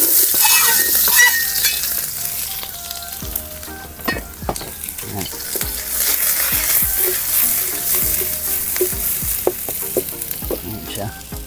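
Chopped onions frying in hot oil in a pan while cooking chicken biryani, a continuous close crackling sizzle with intermittent scraping stirs and utensil clinks against the pan.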